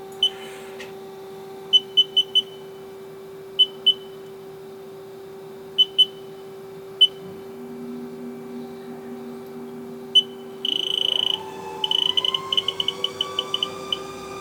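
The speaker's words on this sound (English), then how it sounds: "We are going to run the spindle over here." A 2017 Haas ST-20 CNC turning center with a collet chuck runs its spindle: a steady faint machine hum with scattered short control beeps, then a whine that climbs in pitch as the spindle speeds up near the end.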